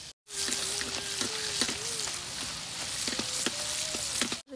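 Steady crackling sizzle of shallots frying in hot oil, continuous and close, with occasional scraping stirs and a faint tonal hum in the background.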